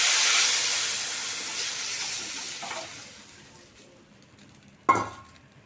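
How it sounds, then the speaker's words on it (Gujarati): Mustard seeds, cumin and asafoetida hit hot oil for a tempering, giving a bright sizzle that fades steadily, then a single sharp metallic clink near the end. "રાઈ જીરું અને હિંગ છે એ નાખી દેશું આને છે એ હલાવી અને આપણે છે એ વઘારી દેશું"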